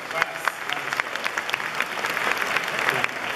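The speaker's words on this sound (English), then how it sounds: "Please applause." Audience at a talk on human settlement on Mars bursts into applause, dense continuous clapping from a crowded room that holds steady and swells slightly toward the end.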